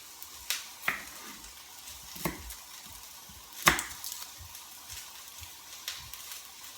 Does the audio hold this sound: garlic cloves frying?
yes